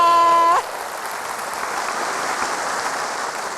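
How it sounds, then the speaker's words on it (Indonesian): Crowd applause at a Jakarta city anniversary celebration, a steady dense wash of clapping that rises right after a brief voice at the start and carries on evenly at a moderate distance. "Tepuk tangan untuk Jakarta."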